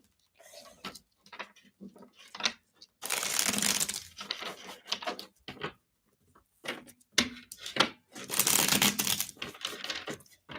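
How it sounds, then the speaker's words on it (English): Tarot cards being shuffled in several quick riffling bursts, crisp and close, separated by brief pauses and small handling noises. "Two more shuffles for super chat answers."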